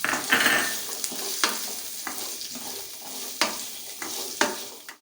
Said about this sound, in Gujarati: હવે આપણે આ સિંગદાણા બાફા હતા એને આપણે નાખી મિક્સ કરી લઈશું